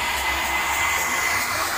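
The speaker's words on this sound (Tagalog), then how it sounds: "kamusta naman yung pag-blower sa'yo?" A hair dryer blowing on damp hair after a DIY rebond treatment, a loud, steady close-up whooshing roar that holds unchanged throughout, with no talking.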